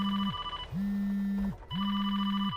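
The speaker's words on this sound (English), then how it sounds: "Phone call." A phone rings in the Farming Simulator 25 video game: three steady electronic ring bursts separated by short pauses, clear and alone.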